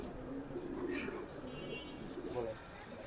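Chinese teddy pigeons, a running pair, coo softly in a loft, their low throaty calls rising twice over steady background noise.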